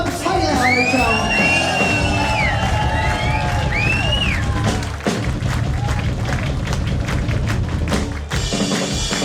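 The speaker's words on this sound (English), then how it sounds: "Ladies and gents, please put your hands together." At a live mod gig in Brighton, the audience cheers, claps and whistles loudly for the drummer. Bright rising whistles sit over a thick roar of applause, with a couple of sharp thumps and dips in the noise.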